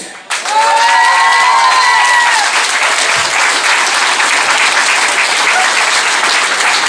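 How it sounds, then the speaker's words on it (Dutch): A packed hall at a Dutch carnival revue erupts in loud, sustained applause with cheering after a junior dance-girls performance, a dense wash of clapping that holds strong from start to finish, with a brief tonal sound at the opening. "een daverend applaus voor Joyce Mures"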